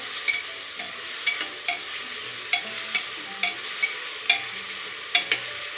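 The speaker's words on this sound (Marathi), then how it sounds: "हे लसूण, आलं आणि कोथिंबीर यांचं वाटण केलेलं आहे, हे टाकू।" A ground paste of garlic, ginger and coriander frying in a pan for masala rice, with a constant hiss of sizzling and regular clinks and scrapes of a spoon stirring, close by, with no voices.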